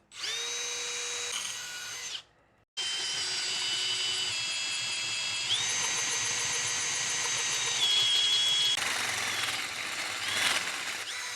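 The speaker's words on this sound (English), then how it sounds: "I'm going to go ahead and drill just a little bit of a pilot hole to start with" Power drill fitted with an 8% cobalt HSS hole saw cutting a pilot hole into a piece of metal, a loud continuous whining motor with squealing tonal overtones, one short pause, then a long sustained run.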